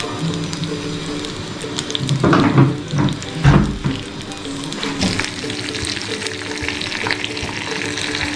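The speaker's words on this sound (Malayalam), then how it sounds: "കടുക് പൊട്ടി വരുന്നുണ്ട്." Mustard seeds pop and splutter in hot coconut oil while the tempering for a moru curry with ash gourd cooks. A dense crackling sizzle swells into louder bursts partway through, then settles to a steady fry with no talking.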